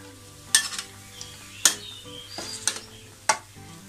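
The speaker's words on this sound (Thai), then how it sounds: "อันนี้คือผัด" Bean sprouts, tofu and minced pork are stir-fried in a pan, a low sizzle punctuated by four sharp metallic scrapes and clanks of the spatula against the pan.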